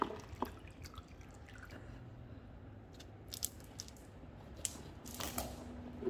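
Faint, sparse drips and small ticks of excess oil falling from a soaked motorcycle chain onto cloth, Suzuki GS 150, scattered irregularly over a low steady background hum.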